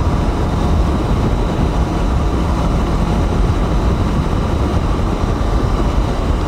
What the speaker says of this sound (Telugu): ఏదో గూడ్స్ ట్రైన్ పోతుంది.